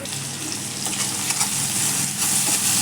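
Eggplant pieces fry in hot oil, a steady, close crackling sizzle running throughout with no voices over it.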